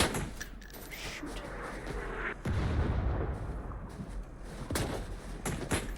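Mortar rounds land in the video game BRM5, with a loud close boom rolling into a low rumble mid-clip and further dull impacts and crackles around it.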